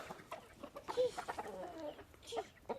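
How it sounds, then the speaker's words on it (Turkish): A rooster in a garden gives soft, scattered clucks at moderate distance over a faint outdoor background, with no talk. "ne yapıyor oğlum ötüyor mu horoz?"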